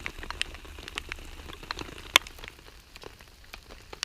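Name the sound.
rain falling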